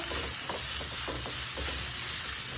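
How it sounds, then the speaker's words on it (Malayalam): Crushed shallots, dried chillies and curry leaves sauté in a pan, a close steady sizzling hiss broken by a few soft stirring scrapes, no talking. "നമുക്കതൊന്നും ഇതിൻ്റെ അകത്തുനിന്ന് വഴറ്റിയെടുക്കാം അതൊന്ന് വഴന്ന് വരട്ടെ"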